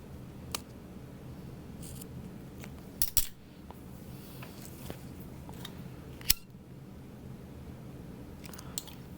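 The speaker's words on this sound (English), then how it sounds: "you will likely need to trim them down after sewing in place. Okay, trim even with zipper tape." Scissors snip zipper tabs while a fabric sling is being sewn, giving a few sharp, quiet clicks and cuts scattered over a soft background hiss, with a small cluster of snips near the middle.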